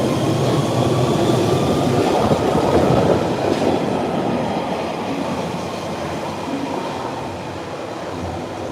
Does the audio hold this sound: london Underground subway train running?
yes